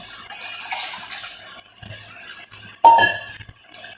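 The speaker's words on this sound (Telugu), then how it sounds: "పొయ్యి మీద ఇలా గిన్నె పెట్టుకొని వాటర్ పోసుకోవాలి" A cooking pot set down on a stove with clanks, then water poured into it for a ragi malt sharbat, loud and close with clinking metal and a short splashing pour, no talk.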